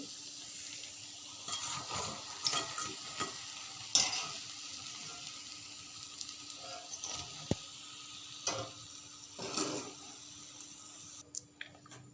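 Cauliflower pakora fritters deep-fry in oil with a steady close sizzle and bubbling, broken by occasional clinks and stirring scrapes of a utensil; no one speaks.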